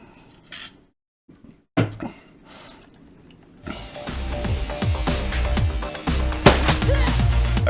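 Gunshots in the turn-based video game Shadowrun Returns. A few quiet clicks and thuds come first, then a louder stretch of repeated sharp shot impacts layered over busy game sound.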